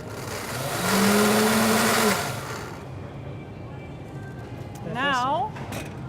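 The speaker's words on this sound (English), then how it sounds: "And then you just pulse it." A kitchen blender pulses a corn soup mixture with chives, a loud whirring burst lasting a couple of seconds that then fades into room noise, followed later by a brief voice.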